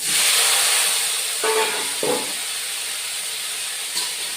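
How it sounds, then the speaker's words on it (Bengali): Potatoes frying in hot oil for a Bengali fish curry, a steady loud sizzling hiss that fades a little over time, with a few brief clinks from stirring. "আলুটাও ভেজে নিচ্ছি"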